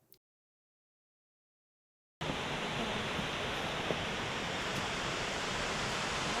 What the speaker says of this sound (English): Two tiers to this waterfall. Looks like it drops up there first.